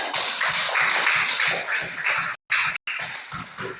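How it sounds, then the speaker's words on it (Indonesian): A class of schoolchildren claps together at the end of a chemistry lesson, a dense run of quick hand claps that stops briefly twice before trailing off. "Tepuk tangan dulu untuk kita"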